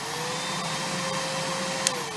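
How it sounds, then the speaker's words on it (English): An Electrolux Guardian upright vacuum cleaner runs steadily with a constant motor whine and airflow roar, close and loud throughout, with one brief sharp click near the end. "See how they sound exactly the same? The only difference between them is the brush roll motor."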